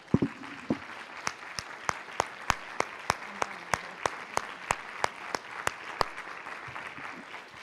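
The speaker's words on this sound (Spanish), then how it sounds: "Sí, vamos a dar un aplauso al Señor." A church congregation claps in steady unison, about two beats a second, sharp evenly spaced claps continuing alone for several seconds.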